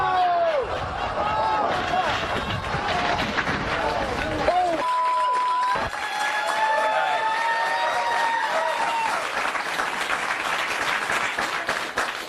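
A studio audience at a Fox News talk show applauds loudly and steadily, a dense wash of clapping and crowd noise that keeps going throughout, with some voices mixed in.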